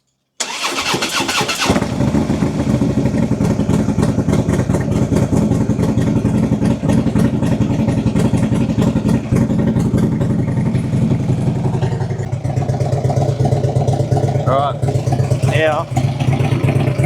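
A Harley-Davidson CVO Road King motorcycle engine cranks and catches within a second, then settles into a loud, close, lumpy idle that runs steadily to the end.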